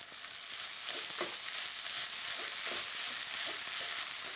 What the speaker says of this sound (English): I'm just going to roughly chop and stir it all the way through. Straight into the pan.